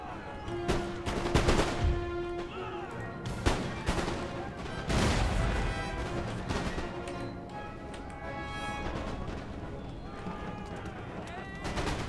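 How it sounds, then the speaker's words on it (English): Grape-shot cannon fire in Empire Total War booms in several heavy bursts over a constant crackle of battlefield musketry, with someone commentating throughout. "another cannon shot would be great. Grape shot"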